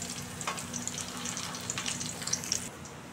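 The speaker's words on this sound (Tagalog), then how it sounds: "Nandiyan na yung bawang kasama ng sibuyas sa kawali." Garlic and onion sauté in a frying pan, a steady close sizzle with occasional stirring scrapes running for about three seconds before the sound drops off near the end.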